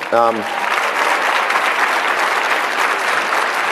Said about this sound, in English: I just want those 4 guys to get another round of applause.